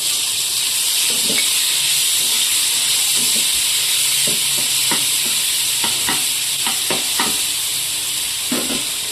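Chopped tomatoes fry in hot oil with garlic and vegetables for a pasta sauce, giving a steady loud sizzle throughout, with intermittent scrapes and taps of a spoon stirring the pan.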